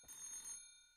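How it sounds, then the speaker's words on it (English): A telephone bell rings in one short, bright burst, fairly quiet and alone, then stops and fades into the room. "Did you hear the phone ring?"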